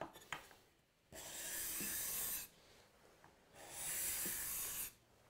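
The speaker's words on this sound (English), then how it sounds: "that's a shaving coming off a scraper with no burr" A hand scraper with no burr pulls shavings off a wooden board in two long, even rasping strokes, close and clear, with a quiet pause between them and no talking.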